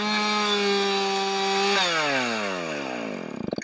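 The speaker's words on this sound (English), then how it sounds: "not have to listen over the chainsaw noise" A chainsaw cuts into wood while making a flat: a steady, loud engine whine, then the pitch sags and wavers as the chain bites through the cut.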